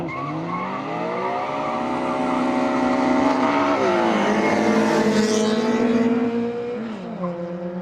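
A drag racing car's engine holds a loud, sustained high-revving tone at the Piskent Drag 2025 event, the pitch climbing, dipping at a shift and climbing again as it pulls away.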